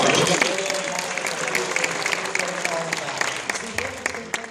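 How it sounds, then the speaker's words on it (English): Audience at a high school hypnotism show clapping in a dense, steady burst of applause that tapers slightly, with some voices mixed in. "Give them a round of applause."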